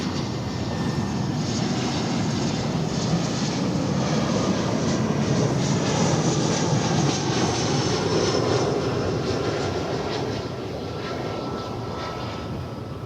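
Airbus A320neo jet airliner taking off at a large airport, a loud, steady engine roar that holds for most of the run, sustained and close, easing slightly near the end.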